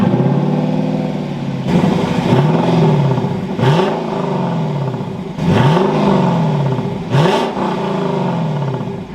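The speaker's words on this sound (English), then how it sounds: "now once inside with my foot on the brake, we can go ahead and start it up" A running 2021 Lexus LC 500 Convertible engine over a steady idle, with four loud throttle blips that rise and fall in pitch and come in irregular succession.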